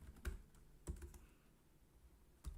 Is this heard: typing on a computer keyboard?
yes